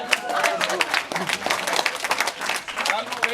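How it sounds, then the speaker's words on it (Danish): An audience claps and cheers in a lively, uneven burst of applause, sharp hand claps crowding together at close range, with voices mixed into the noise. "inden jublen nu bliver alt for stor"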